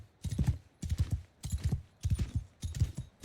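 Horse hooves gallop in Mount & Blade 2: Bannerlord, a medieval combat game, with five steady bursts of clip-clop hoofbeats repeating evenly and fairly close, with no talk.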